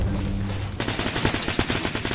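Rapid automatic gunfire from the Fortnite Battle Royale video game, a burst of closely spaced loud shots rattling on for over a second after a low-humming start, with no talking.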